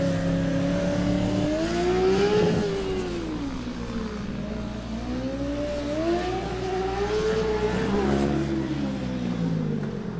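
A Formula Student race car circles a skidpad, its engine note rising and falling in smooth repeating sweeps at close range, loud and continuous throughout.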